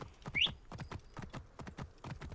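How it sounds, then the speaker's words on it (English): Horse hooves clip-clop in a steady, close rhythm while riding in the Assassin's Creed Origins video game, with a brief high whinny-like chirp near the start and no talking over it. "Come on, get on the horse."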